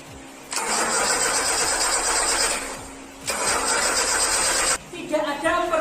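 A Toyota 5K engine cranks twice without firing, each long burst of starter whirring running a few seconds before stopping abruptly, loud and close, with a short clatter after the second attempt.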